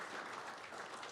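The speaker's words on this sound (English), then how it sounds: "Please, let's give them a round of applause for their awesome service as well" A brief, fairly faint round of applause from an audience at a county school board meeting, honoring elementary school staff, with steady clapping and no talking.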